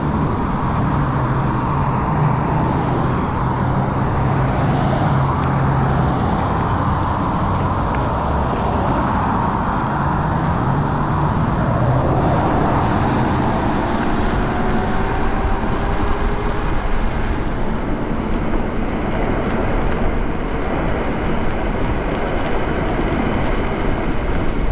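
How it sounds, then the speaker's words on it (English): Highway traffic roars past during a fast e-bike ride, a continuous loud road-and-wind rush with passing vehicles swelling and fading, no talking. "Get in with some highway traffic for a minute here."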